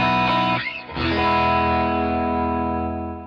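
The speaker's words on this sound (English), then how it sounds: "So this is with the doubler." A single sustained electric guitar chord through a stereo doubler effect on a Quad Cortex rings out wide and bright with a doubled, shimmering character. It breaks briefly, then swells back and slowly fades.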